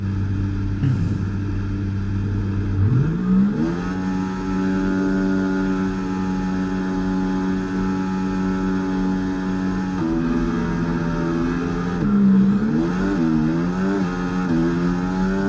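A pack of Formula 1 cars in F1 2024 launching from the race start, high-pitched engines climbing through the revs in overlapping waves, shifting up and surging again, loud and close with no talking.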